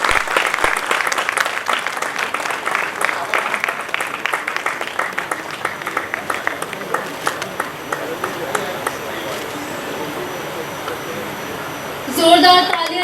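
An audience at an award ceremony applauds loudly and continuously, dense clapping filling the hall and slowly thinning out, with a brief burst of other sound near the end.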